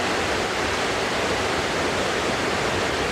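Waterfall roaring steadily among rocks and heavy mist, a dense, constant wash of water noise filling the whole stretch without a break, close and fairly loud.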